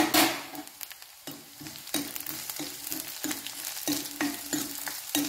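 A spoon stirs Kerala-style ginger curry with green chili in a pan, giving rhythmic scraping strokes about every half second over a steady close sizzle. No one speaks.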